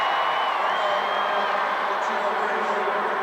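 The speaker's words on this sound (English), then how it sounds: "Crowd making plenty of noise here" Crowd at a Totino-Grace vs. Blaine state 6A high school football game: a steady, loud stadium roar with scattered cheers, running under a commentator's voice.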